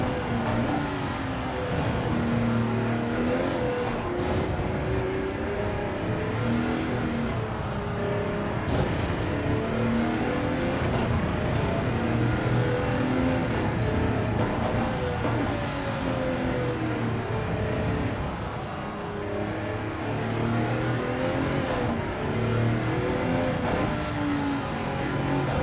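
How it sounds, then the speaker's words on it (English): Audi R18 TDI prototype race car in Gran Turismo 7 at Spa, its engine droning steadily at high speed down a straight and shifting into sixth gear, a continuous loud hum with no talking. "As we come chugging down the straight into 6th gear and we lose 3 miles an hour."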